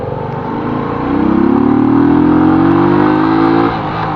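A Euro Daan Hari 125 motorcycle engine pulls hard through the low gears, its steady hum climbing in pitch over about two and a half seconds before settling back to idle, close and loud with no voices.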